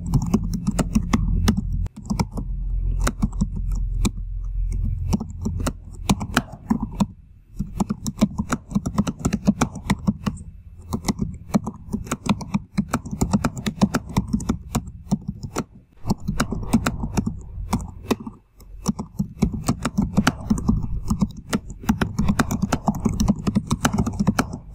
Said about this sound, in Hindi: मैं कैसे अपनी बुक से टाइप कर रहा हूँ